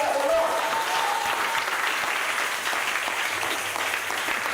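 A church congregation applauding, a steady sustained wash of many hands clapping together, filling the room evenly throughout.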